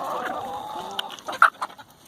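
Backyard chickens cluck and give short squawks up close while pecking at garden kale and banana peels, the calls coming in quick irregular bursts over a quiet background.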